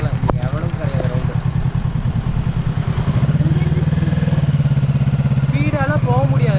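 A superbike carries kids on a ride with no helmets. Its engine throbs in a pulsing, near drone that steadies after a few seconds, while voices talk over it throughout.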